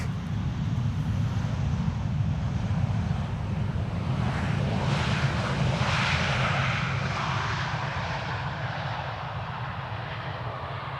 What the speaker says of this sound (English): KLM Flight 1198 arriving from Oslo. We have over here a 737-800 with a carrying cabin in the back.